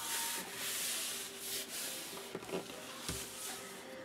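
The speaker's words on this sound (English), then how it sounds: "Touch it down and then give it a good rub." Glued paper being rubbed down by hand onto an anthology album page gives soft, close, dry rubbing strokes in a few bursts with brief pauses, and no voices.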